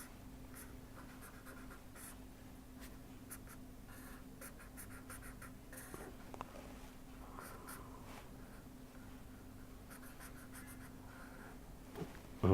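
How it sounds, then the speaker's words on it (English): During a heat-transfer lecture on radiation shields, a pen scratches across a writing surface in short, brisk strokes, drawing a circuit diagram in quiet, close bursts separated by brief pauses. "if I draw the circuit diagram for this case"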